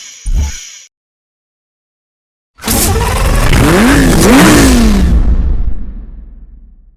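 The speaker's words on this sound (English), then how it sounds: "The LP640 in its name refers to the position and power of its engine" A Lamborghini Murcielago LP640 in Need for Speed Hot Pursuit: a short burst of sound, a pause of silence, then a loud close engine rev that sweeps up and down in pitch and fades out.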